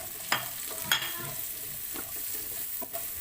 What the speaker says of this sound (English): we just have to saute the garlic and the onion